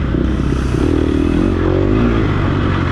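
A dirt bike engine roars loud and close while being ridden hard in an off-road race, its pitch climbing as it revs, with some clattering.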